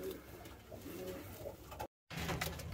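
A racing pigeon coos in its loft, soft repeated throaty coos close by over a low background hum, broken by a brief moment of dead silence near the end.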